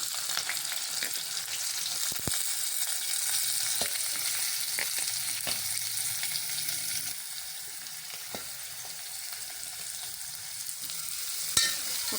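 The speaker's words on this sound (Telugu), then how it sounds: "ఇప్పుడు మనం సన్నగా తరిగిన ఆనియన్స్ కూడా వేద్దామండి" Cumin and finely chopped onions fry in a pan with a steady, close hiss, and occasional clicks and scrapes of stirring come through. The sizzle eases a little partway through and carries on with no talk.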